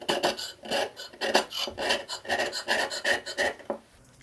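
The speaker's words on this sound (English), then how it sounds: "the high-speed steel tool gave me a basic feel for the scraping process" A high-speed steel hand scraper is dragged across metal while surface-scraping a cheap milling vise, giving a rhythmic series of about a dozen close, raspy strokes with short pauses between them, with no talk.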